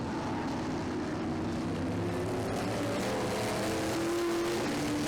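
Race cars circling a track with the purple number 18 leader lapping the back of the pack, a steady roar of several engines with rising engine tones as cars pass, fairly distant and continuous.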